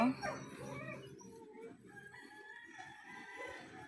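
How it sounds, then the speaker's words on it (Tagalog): A rooster crows at the start, followed by a soft, cluttered background of farmyard clucking and low ambient noise. "Ang madungog dire kay tingog sa manok"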